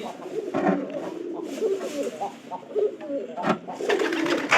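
Farm pigeons coo repeatedly at close range, their low throaty calls overlapping in a steady run of phrases, with some background noise and possible faint voices.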